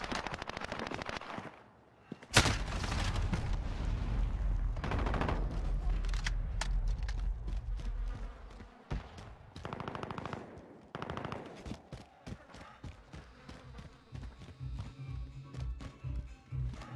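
Video game enemies fire in long bursts of automatic gunfire, dense machine-gun rattles and sharp shots, loud and close, with pauses between bursts and scattered later volleys.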